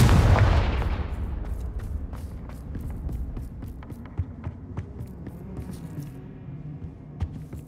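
Spell effects in a PS5 wizard game set in a library: a heavy booming blast that slowly fades, followed by scattered soft clicks and thuds over a low hum.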